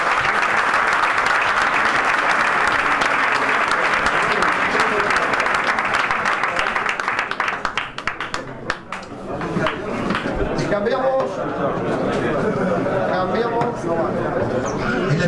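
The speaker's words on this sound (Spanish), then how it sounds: "El aplauso para Carlos Ramos." Applause rings out at an official weigh-in for a European boxing championship, full and continuous at first, then thinning into scattered claps under crowd chatter and someone talking over a loudspeaker.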